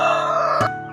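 A rooster crows on a small home chicken farm, the loud harmonic call ringing close and clear for most of a second before trailing off as other fowl sound faintly behind.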